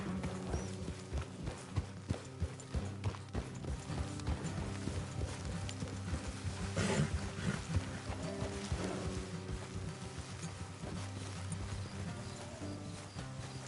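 Steady clip-clop of horse hooves on a hard surface in the video game Red Dead Redemption II, repeated rhythmic beats over a dense, busy background with a brief neigh-like burst midway.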